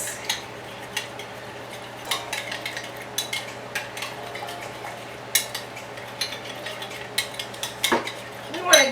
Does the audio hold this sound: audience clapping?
no